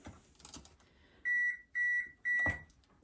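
Oven preheat signal of three evenly spaced electronic beeps, loud and clear, with faint kitchen handling noise in between.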